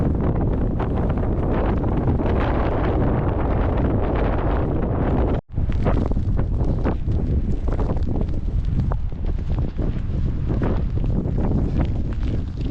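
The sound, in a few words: strong wind on coastal walk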